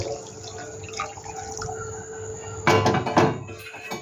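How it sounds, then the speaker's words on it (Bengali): Hot water is poured into a pot of vegetarian potato biryani with soybeans, a soft background hiss giving way to a brief, louder splashing pour near the end. "এই যে আমি গরম জলটা আমি দিয়ে দিচ্ছি"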